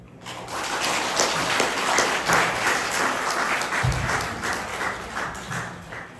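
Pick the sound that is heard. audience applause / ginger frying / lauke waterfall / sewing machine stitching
audience applause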